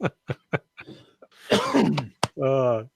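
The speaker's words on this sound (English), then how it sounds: "Y'all making me cough again." A few sharp close coughs in quick succession, then a throaty rasping fit and a drawn-out vocal groan.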